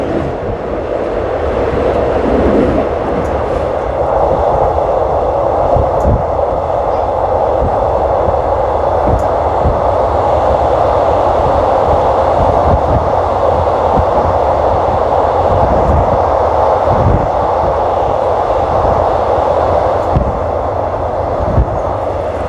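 A train rolls from Bangkok's central station toward Don Mueang, with a steady loud rumble of rail travel and faint clickety-clack of wheels throughout, heard from on board.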